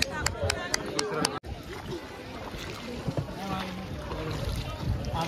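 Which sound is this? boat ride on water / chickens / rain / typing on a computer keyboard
boat ride on water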